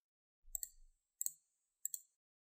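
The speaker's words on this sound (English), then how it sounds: "Click OK when you're finished." Three pairs of sharp computer mouse clicks, evenly spaced about a second apart, crisp and close while working in Microsoft Project 2013, with no voices.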